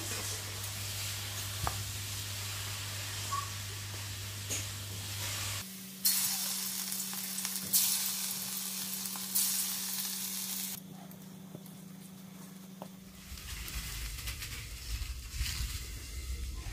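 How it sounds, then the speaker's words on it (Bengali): Hot oil sizzling in an empty wok over a stove, a steady hiss that rises and falls in loudness with a low background hum, no talk. "কড়াইটা ফাঁকা হয়েছে যখন, তেলটাও দেখো এদিকে গরম হয়ে গেছে।"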